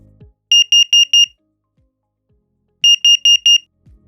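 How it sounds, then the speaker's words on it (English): First Alert battery-powered alarm under test sounds a carbon monoxide pattern, two bursts of four sharp, loud, high beeps separated by a silent pause. "the alarm will produce 4 beeps, followed by a pause, and then repeat the 4-beep sequence"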